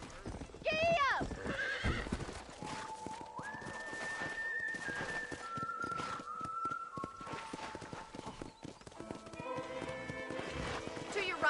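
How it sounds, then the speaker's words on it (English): Hooves clip-clop at a lively pace as a horse moves through a town in the video game Red Dead Redemption, with a whinny near the start and a voice speaking over the steady galloping rhythm. "Come on, Mr. Marston, pick up the pace. Giddy up."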